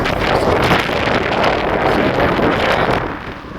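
Steady, loud wind roar buffets the microphone while riding into a headwind on a 26-inch Pujh PU3 Pro near Imperial Beach, a continuous rushing blast that eases slightly at the end.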